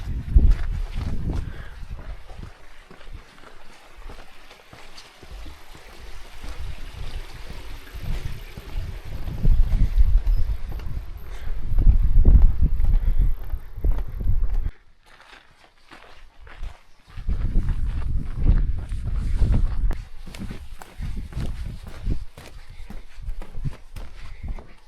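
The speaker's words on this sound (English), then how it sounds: "Getting a little windier." Wind gusting on a hiking track in Tongariro National Park, buffeting in low rumbling surges that swell and fade, dropping away briefly midway before returning, with soft footsteps underneath.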